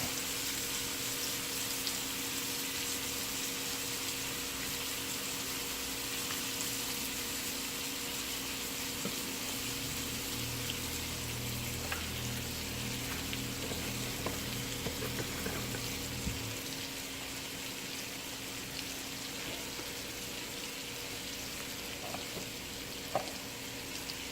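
Shrimp sear in a hot pan for spicy Creole shrimp, a constant close sizzle with a low rumble partway through and occasional faint clicks.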